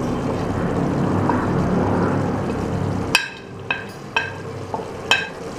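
Ground coriander, garam masala and mutton masala fry and sizzle in a pan for mutton masala curry, a dense frying hiss that drops away midway and gives way to several sharp spoon scrapes and knocks against the pan.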